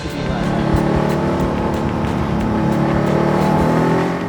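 A Porsche car engine runs loudly and steadily at close range, a continuous rough motor drone with faint ticking over it.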